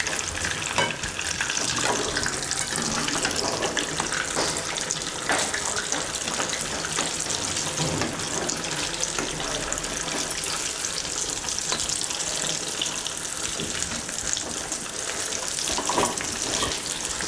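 Purnam burelu fry in hot oil with a constant, bubbling sizzle, close and fairly loud, with faint clinks of a utensil turning them throughout.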